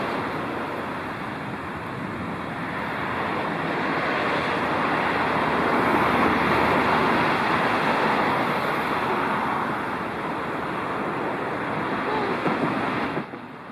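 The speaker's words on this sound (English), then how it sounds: "I just really hate the car park area, it's just so damn noisy." Steady broadband roar of traffic around a car park, a continuous wash of engine and tyre noise with wind, fairly loud and unbroken throughout, no speech.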